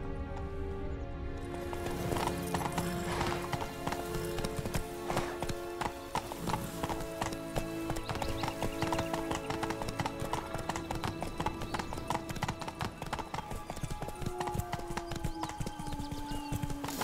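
Horse hooves galloping in The Witcher video game, a fast rhythmic clip-clop pounding continuously and close, with game music and an occasional whinny beneath.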